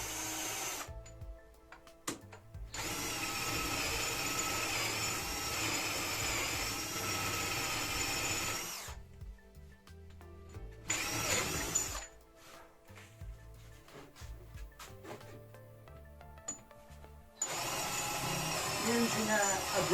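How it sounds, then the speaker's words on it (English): A power drill with an M9 brad point bit whirs in several loud bursts, one long run and shorter ones, separated by brief pauses, close by, drilling holes for a mini woodturning lathe. "And we'll drill the holes in here."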